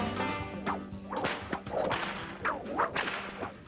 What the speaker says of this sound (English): He's been cracking the whip for about 30 years now